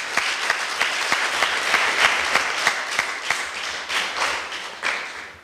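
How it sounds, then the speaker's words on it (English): Applause for the Kendall Camp kitchen staff at a West Indies Cricket Board kiddy cricket camp. A group claps steadily for several seconds, with individual sharp claps standing out, fairly close and with no talk over it. "Give them a round of applause."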